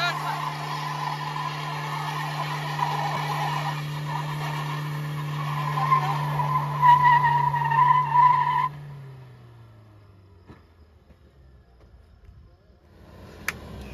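Fortuner and Thar SUVs strain against each other in a tug of war: a loud, sustained engine roar with squealing, skidding tires for several seconds, then the revving cuts off and fades, leaving quieter surroundings with occasional voices.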